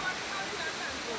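A waterfall at Chhoto Komoldoho in Mirsarai gives a continuous broad rush of falling water, close and steady, briefly heard with a voice faintly present.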